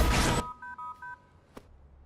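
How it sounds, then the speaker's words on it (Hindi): Telephone dialing tones: after a short burst of noise, a quick run of four clean keypad beeps sounds in even rhythm, followed by a faint click, close and alone. "तेरी सबसे पहली गलती जेके को फोन करना।"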